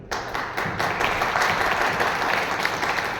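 A seminar audience bursts into loud, dense applause, sustained clapping from many hands that swells quickly and continues evenly throughout.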